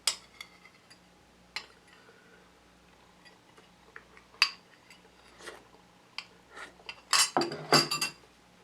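Utensils clink and tap against a bowl while picking out the last pieces of kimchi, a scattering of soft, sparse ticks that builds to a cluster of louder metallic clinks near the end.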